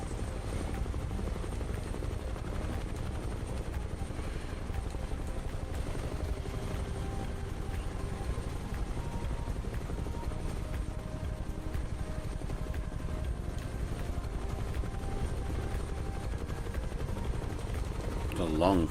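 A Huey helicopter in the Microsoft Flight Simulator 2020 game gives off a constant heavy rotor thump and turbine drone that stays loud and even for the whole stretch, with no pauses.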